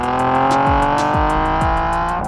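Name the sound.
Nissan 370Z Nismo exhaust note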